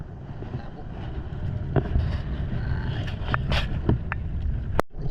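Fishing boat engine idling out at sea, a steady low rumble under wind noise on the microphone, with a few knocks and thumps over it.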